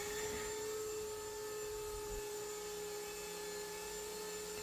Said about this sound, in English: I try to sand down the finish